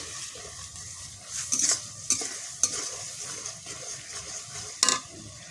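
Ginger-garlic spice paste stir-fried in a pan for a village-style sea fish curry with taro stems, with steady sizzling and repeated scraping stirs, a few sharp utensil clinks standing out near the middle and end.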